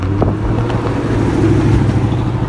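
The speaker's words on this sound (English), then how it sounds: "is this guy driving a fucking race car down the fucking road?" A street-legal race car passing on a public road, a continuous loud low engine roar with rumbling texture that holds steady throughout.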